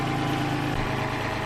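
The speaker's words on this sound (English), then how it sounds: "She's idling perfectly." A Bobcat MT50 compact track loader's Kubota D722 diesel engine idles steadily after a head gasket replacement, a smooth, even low rumble with mechanical vibration, close and constant, with no talking.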